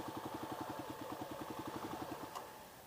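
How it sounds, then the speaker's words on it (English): A Kawasaki KLX300 dirt bike engine idles with a steady, even low thumping pulse, then stumbles and dies as the throttle is let off, leaving quiet hiss. "So the bike idles at about, what is that, 1200 maybe?"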